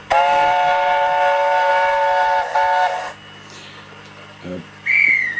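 A long, steady steam whistle from a Hornby Mallard model locomotive sound unit sounds for about three seconds, then cuts off, followed by brief quieter electronic tones and a short high whistle.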